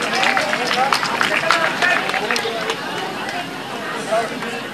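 An audience at a school award ceremony applauds the winners, steady dense clapping from many hands at moderate distance, continuing for several seconds with a faint murmur of voices underneath.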